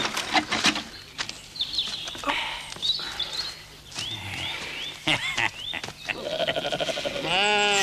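A sheep bleats in a French TV crime series scene, several wavering calls rising over a busy background with a long, clear bleat near the end.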